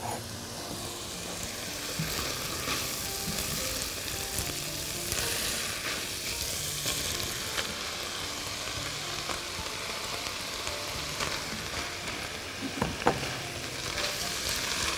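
Mushrooms frying in a pan, giving a steady, moderate sizzle and crackle with occasional stirring clinks, continuous throughout with no talk.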